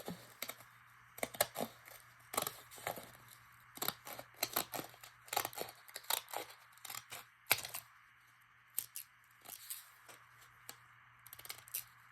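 Scissors cut around the rim of a paper plate in a close, quiet run of crisp, irregular snips and slicing crunches, with short pauses between strokes and no talking.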